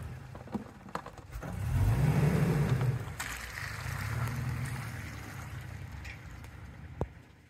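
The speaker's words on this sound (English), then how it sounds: "let's drive up over this and get unstuck" A truck drives up over traction boards to climb out of mud, its engine rumbling low and steady in two swells with a brief easing between, followed by a sharp knock near the end.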